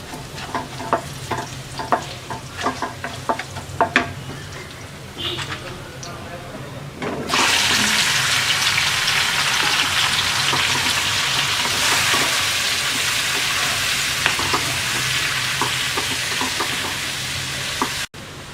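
Monkey jackfruit is dropped into a pan of lightly fried garlic for a pickle. Stirring clinks and soft frying come first, then a sudden loud, steady hiss of sizzling takes over and holds until it cuts off.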